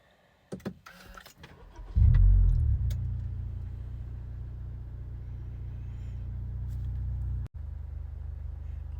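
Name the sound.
car engine idling to warm up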